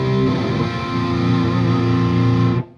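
A thick, heavily distorted electric guitar chord on the amp's rhythm channel rings out steadily for a couple of seconds, then cuts off abruptly.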